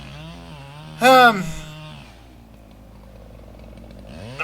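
A chainsaw cuts gum trees in a residential yard, with a loud, steady engine drone that rises to a sharp rev and then settles back to a rough idle, close by, with brief speech.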